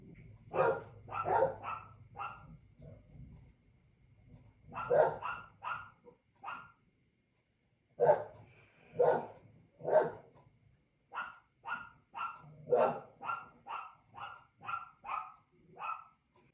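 A dog barks repeatedly in short bursts, sharp yips in clusters with brief pauses between, fairly close and loud, with no talking.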